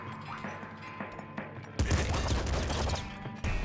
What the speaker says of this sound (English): Machine gun should have a higher rate of fire, slightly.